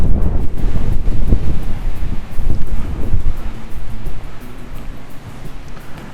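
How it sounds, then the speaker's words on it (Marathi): Strong, loud wind buffets the microphone on a hilltop fort (Mrugagad, Bhelive), a continuous low roaring rush that swells and eases slightly, with no voices. "जोरदार असा इथे वारा चालू आहे सध्या"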